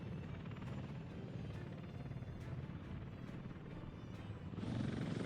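A construction helicopter flies in the Workers & Resources: Soviet Republic game, its steady rotor drone loud and continuous with faint periodic ticks, swelling slightly louder near the end, with no talk.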